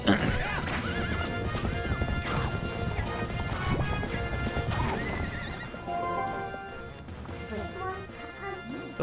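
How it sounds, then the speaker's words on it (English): A startled horse in Twilight Princess neighs and gallops in circles amid crashing explosions, loud hoofbeats and whinnies over busy game music. "The horse is running in circles."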